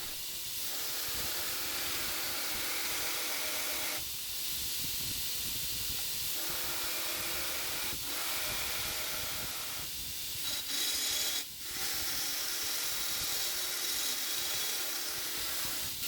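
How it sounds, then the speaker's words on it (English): A surface grinder works a steel knife blank made from lock washers, giving a loud, continuous abrasive hiss with a few brief shifts and bursts in intensity. "now we take it to the surface grinder"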